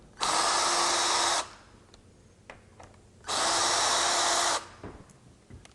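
A power drill backs small screws out of a door hinge, running in two loud bursts of about a second each with quiet handling in between.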